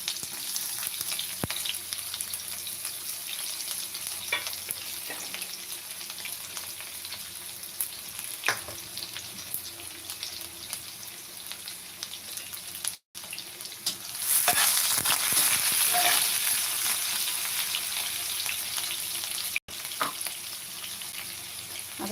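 Finely chopped onion sizzling in hot oil with cumin seeds for a cowpea-pod vegetable dish, a steady broadband hiss with occasional stirring clatter, the sizzle swelling louder partway through as it settles into the pan; no voices.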